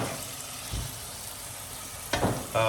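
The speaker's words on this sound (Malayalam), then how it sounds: "ഇത് നമ്മള് ബീഫ് ഇളക്കി ഇളക്കിക്കൊണ്ടിരിക്കുന്നു" Constant sizzle of beef masala frying in a pan, with a few thuds and scrapes of stirring, louder clatter near the end.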